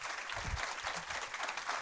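An audience at a Nordic female investor meetup applauding to welcome speaker Christina, a brief continuous burst of crowd clapping heard close and fairly even throughout.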